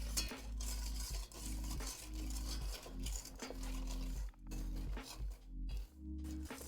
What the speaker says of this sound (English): So we're gonna whisk, whisk,